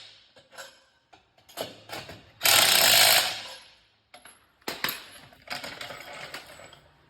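Tool work while tightening a part on a John Deere 1025R compact tractor: scattered metallic clicks and taps, a loud sustained burst of a ratcheting or power tool around the middle, then more irregular knocks.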